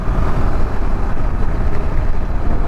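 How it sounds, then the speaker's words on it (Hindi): A KTM 390 Adventure motorcycle cruising on the road, heard as a loud, continuous engine drone blended with rushing wind noise, steady throughout with no break. "you can cruise effortlessly on this bike"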